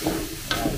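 Glutinous rice being sautéed in a pan for goto lugaw, with a soft sizzle and brief stirring scrapes, close and fairly quiet, no voices.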